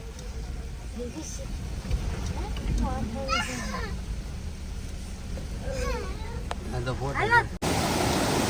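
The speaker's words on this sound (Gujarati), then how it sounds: "આ છે ધોધ, નાનો એમ તો જોઈ રહ્યા છો કેવો મસ્ત પાણી જાય છે." A small monsoon-fed waterfall near Gira Waterfall in Saputara sends out a steady broad rush of falling water. Adults and children talk over it, and a brief louder burst of noise comes near the end.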